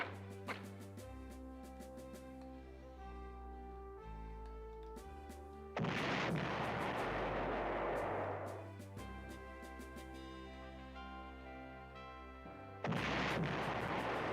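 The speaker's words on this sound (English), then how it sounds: "I can use my artillery now against Paris." Artillery fire in the PlayStation 1 strategy game Panzer General: two heavy booming blasts with long rumbling decays, set over layered game music and effects, no talk.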